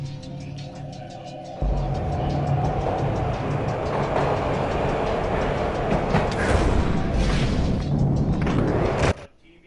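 Train ride in the Max Payne video game on PS2: a steady, loud rumble of rolling carriages with metallic clatter builds in after a quieter opening and runs continuously, then cuts off near the end.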